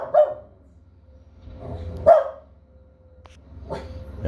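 A puppy barks three times at a tree service job site, single sharp barks spaced roughly two seconds apart, fairly close, over a low steady machine hum.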